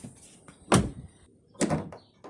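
Trunk of a 2016 Audi A6 C7 2.0 TDI opened in a garage, giving two solid thunks about a second apart, the second with a lighter latch click, fairly close and with no talk over them.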